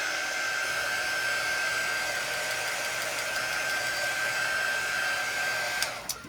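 A hair dryer blows steadily and loudly at close range while drying craft paste, a constant whooshing whine that cuts off with a click near the end.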